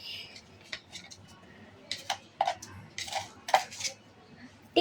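A metal spoon adding tea powder to a pot while tea is made with sugar, several close clinks and scrapes in irregular bursts against a quiet background.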